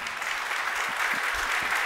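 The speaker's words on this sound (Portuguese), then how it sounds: "Para Jesus uma salva de palmas e fique em pé." A church congregation claps together in dense, steady applause, a continuous wash of hands with no one speaking over it.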